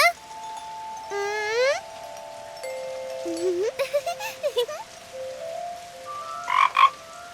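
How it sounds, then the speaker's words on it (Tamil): A cartoon frog in a Tamil children's story croaks in a quick series of bright, bouncy ribbits, mixed with playful musical chirps and tones. The croaks are close and fairly loud, rising toward the end. "நீ தான் தவளை மாதிரி கத்துனல்ல."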